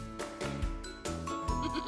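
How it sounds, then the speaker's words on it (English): A goat bleating in two or three short wavering calls, close and fairly quiet, with no talk. "goat"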